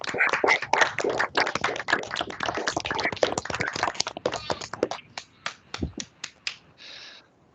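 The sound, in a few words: audience applause after a talk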